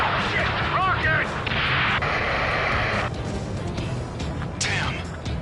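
Video game combat with heavy rocket explosions and bursts of gunfire, booming and crackling in rapid succession, with brief whooshing sounds between blasts.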